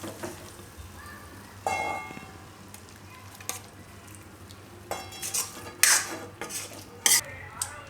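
Bottle gourd curry being served out of a pan with a metal spoon, scattered scraping and clinking strikes against the pan, close and sharp, with a faint sizzle underneath and quiet gaps between.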